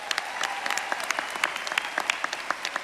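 Dense, steady applause from a convocation audience honoring a staff department at a 2019 roll call, many hands clapping together with sharp individual claps standing out, fairly close and continuous throughout.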